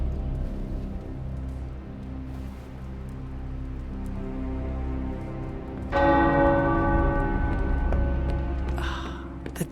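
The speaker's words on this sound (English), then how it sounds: "The tower bells are ringing." Deep tower bells in the video game Marvel's Midnight Suns toll with a long ringing hum, growing brighter and louder partway through as more bells join, over a soft rain-like hiss.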